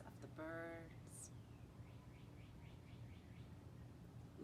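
Birds sing outdoors in a quiet setting: an early call, then a run of about six quick, faint chirps repeating evenly at a distance over soft background hush.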